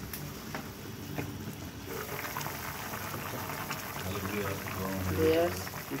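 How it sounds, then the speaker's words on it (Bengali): Vegetable curry with potato, pointed gourd, pumpkin, jackfruit seeds and egg bubbles in a pot in a Rajshahi-style kitchen, a steady low simmering wash that swells toward the end, with a voice talking over it. "তরকারিটা সিদ্ধ হচ্ছে, একটু সময় লাগবে।"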